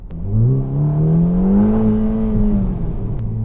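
Ferrari Roma Spider with a 3.9L V8 and 8-speed F1 dual-clutch gearbox accelerating from inside the cabin, a rising engine drone that climbs through revs, then drops at a quick upshift before pulling again.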